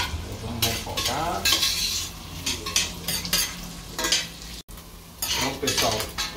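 Bacon sautéing in a pan with a steady sizzle, broken by repeated scrapes and clinks of a utensil stirring against the pan, close and fairly loud throughout.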